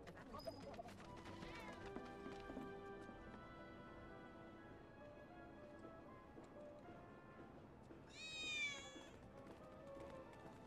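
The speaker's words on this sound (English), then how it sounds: "I'm trying to get a cat to come out" A cat meows in a city street scene in the Final Fantasy 7 Remake video game, one short faint cry amid a quiet background of game ambience and music.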